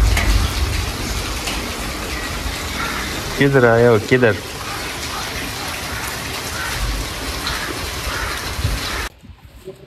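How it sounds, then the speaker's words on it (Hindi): Heavy rain pours steadily and loudly in a dense, continuous wash while someone speaks briefly over it partway through, before the downpour cuts off abruptly at the end. "तेज बारिश हो रही"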